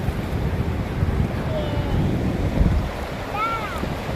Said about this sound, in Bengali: প্রচুর ঢেউ আজকে পূর্ণিমার জন্য